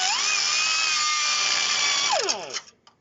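A pneumatic impact hammer driving a punch into a rusted leaf spring hanger rivet on a vehicle, giving a loud, steady high buzzing whine that winds down sharply near the end, alone without speech.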